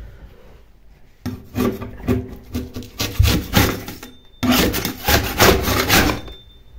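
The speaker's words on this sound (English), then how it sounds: "So I'm just using my regular scraper for this." A hand scraper strips paint from a staircase wall or ceiling in a run of close, rasping strokes, rough scrapes in bursts with a short pause midway, and no talk.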